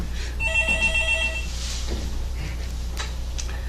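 Electronic telephone ring with a repeated bright chirping pattern for about a second, then fading, heard at moderate level over a steady low hum in a room, with no talk.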